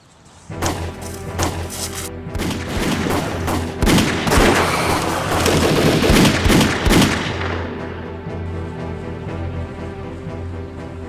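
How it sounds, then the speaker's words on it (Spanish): Gunfire in a Mexican action film: a rapid volley of loud, close shots and thuds bursting over a low sustained score, then fading into music and ambience. "Escuché unos disparos."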